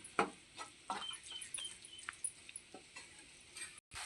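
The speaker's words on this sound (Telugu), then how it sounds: "ఇలాచి పౌడర్ బాగా కలిసేలాగైతే కలుపుకోవాలి" Carrot halwa with cardamom powder is stirred in a pan, giving soft, faint scrapes and light taps at an uneven pace, close by and with no voices.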